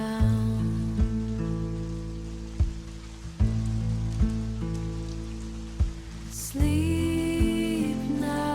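Rain at night heard from inside a sleeper bus travelling through Vietnam, a steady wash under sustained low tonal tones, with occasional soft thumps and clicks at irregular intervals.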